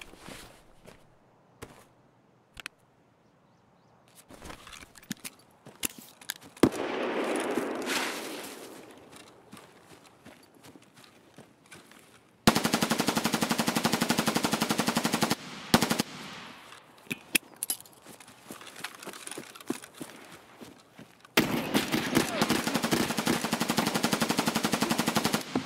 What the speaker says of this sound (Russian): Стреляешь.